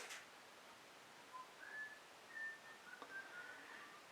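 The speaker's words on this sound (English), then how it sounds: "Yes, there is a man whistling in the background." A man faintly whistles a meandering tune in the background, thin drifting notes over quiet room noise.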